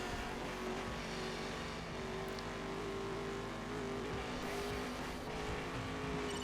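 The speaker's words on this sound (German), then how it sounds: "Aber wir können ja genug Gas geben." A car accelerating in a racing video game, its engine droning loudly and steadily with continuous road and tire noise.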